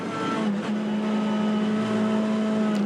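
A front-wheel-drive Honda Civic Type R TCR race car engine on track at The Bend, holding a steady, loud drone at high speed, with a brief gear-shift dip early on.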